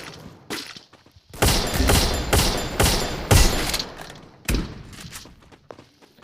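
Rapid bursts of gunfire in the Free Fire video game, including sniper shots, loud clusters of shots with short pauses between volleys.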